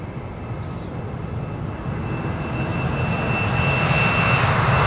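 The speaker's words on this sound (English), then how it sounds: "I think that's his aircraft then." A plane's aircraft engine roars steadily at an aviation gathering, a broad continuous drone that grows slightly louder over the few seconds with no talk.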